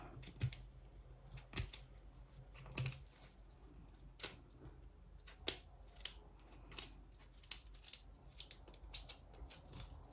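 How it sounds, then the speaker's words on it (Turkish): Scissors snip through metallic yarn while finishing a crocheted bag, a series of crisp, close clicking cuts at irregular intervals over a quiet background. "Şöyle kesiyorum arkadaşlar"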